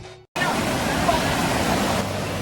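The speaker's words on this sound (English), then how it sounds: "Not only is this a narrow river, but it's also shallow and fast moving." A narrow, shallow, fast-moving river near Whistler rushes as a loud, dense, continuous roar of broadband water noise, close and steady after a brief quiet gap at the start.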